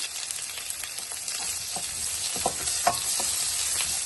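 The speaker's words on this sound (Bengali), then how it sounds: "আমি একটু জিরা আর পেঁয়াজটা ভেজে রাখবো ফোরানি দেওয়ার জন্য" Cumin and onion fry in a pan with a steady, close hiss of sizzling oil, broken by occasional light clicks and scrapes as the mixture is stirred.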